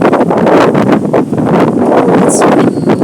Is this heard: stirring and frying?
no